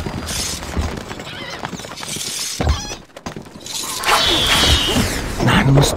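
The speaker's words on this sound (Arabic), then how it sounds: "الفرس تعدو." Hooves clatter at a gallop among whooshing, clashing effects in the game Stronghold Crusader, with a horse's whinny rising near the end. The sound is loud and busy throughout.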